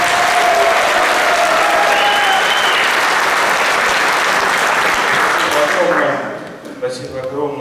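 Loud, sustained applause from fans greeting the head coach at a supporters' meeting, dense clapping for about six seconds before fading out, with voices emerging under the tail.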